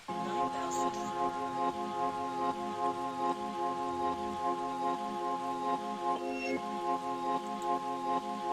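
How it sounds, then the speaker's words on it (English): Rain patters steadily over a calm melodic music track, the drops a constant soft hiss beneath the sustained tones. "relax, and check it out to the sound of the rain."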